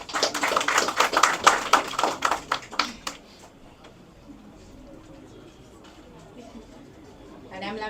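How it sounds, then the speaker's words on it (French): An audience at an installation ceremony for a new director general claps for about three seconds, a dense burst of applause that fades out, leaving quiet room tone and faint voices. "je vous demande de l'applaudir"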